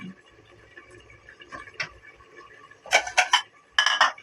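Knife cutting eggplant for pinakbet on a board, a few faint taps early, then two bursts of quick close chopping strokes, with a soft clatter of kitchen utensils in between.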